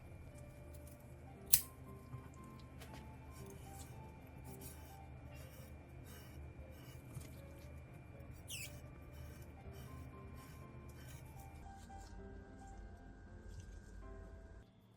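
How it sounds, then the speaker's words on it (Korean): Kitchen scissors trimming the fins off a butterfish, heard as a few sharp, distinct snips spread over a quiet background with faint soft handling noises between the cuts. "가위를 이용해 병어의 지느러미를 제거한 뒤 화면처럼 칼집을 넣어주세요"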